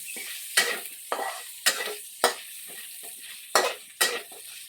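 Squash (kalabasa) frying in oil in a pan is stirred with a utensil, giving six sharp scraping clacks at uneven intervals over a steady soft sizzle, close up with no talking.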